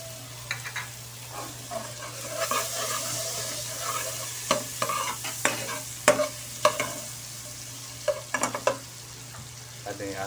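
Sliced onions sizzle and fry in a hot cooking pot for a breakfast sopas while a utensil scrapes and stirs them in irregular clacks, with a steady frying hiss and a low hum underneath.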